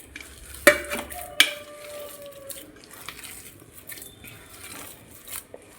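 Jackfruit ada batter with cardamom and ghee mixed in a bowl: two sharp spoon clinks against the rim early on, then soft, steady scraping and stirring that stays fairly quiet, with no talking.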